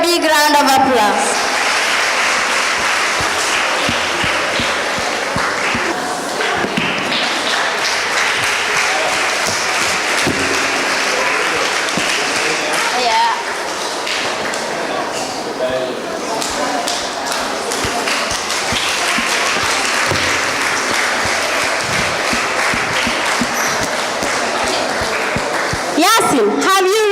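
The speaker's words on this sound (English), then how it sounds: "Please give them a big round of applause." A crowd at the Kids Podium Gambia talent show claps as mentors walk on stage, sustained and fairly loud for the whole stretch, with voices and other stage sound mixed into the applause.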